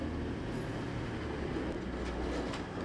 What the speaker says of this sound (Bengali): চাকাগুলো তাদের ঘরঘরানি গুঞ্জন শুরু করলো